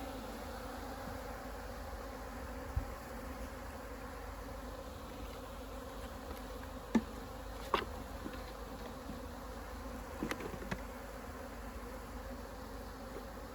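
Honey bees buzz around an open hive during a colony transfer, a faint, steady drone with occasional closer individual bees and a few soft knocks.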